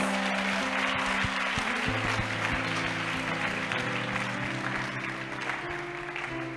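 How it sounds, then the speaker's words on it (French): Church congregation applauding during an evangelist's sermon, a steady wash of clapping throughout with sustained organ or keyboard tones underneath. "Acclamons pour lui."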